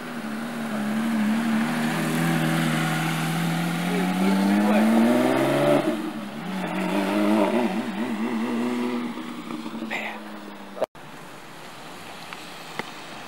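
A GT3 RS sports car at a rainy outdoor car show in Miami, its engine tone rising and falling as it moves past, over steady rain-like hiss and crowd murmur, ending with a sharp click.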